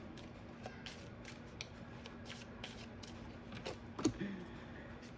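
A deck of angel cards being shuffled for a romance reading, a soft continuous flutter of riffling and sliding cards up close, with a slightly louder clack of cards near the end over a faint hum.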